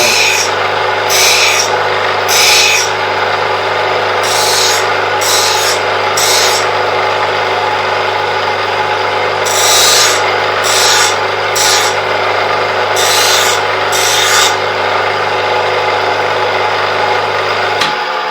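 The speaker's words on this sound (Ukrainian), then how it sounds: "Край повинен бути строго перпендикулярний шліфувальному кругу." A screwdriver tip being sharpened on a grinding wheel: a steady motor hum under repeated short rasping bursts of metal against the abrasive wheel, loud and close, with no talking.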